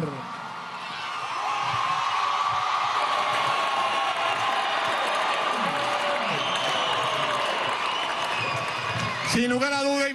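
Audience applause and crowd noise fill a ceremony honoring athlete Yulimar Rojas at the closing of the Expo Juventud y Deportes. A sustained wash of clapping carries under a continuous announcer's voice, with a brief musical burst near the end.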